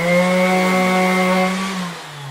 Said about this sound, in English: Just a little bit of light sanding.